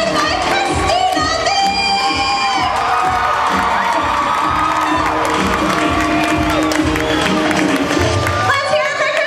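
A convention panel audience at Anime Expo cheers and whoops loudly for a Sailor Moon voice cast member, a dense roar of shouts and claps filling the room over rhythmic thumping, with a host's voice under it.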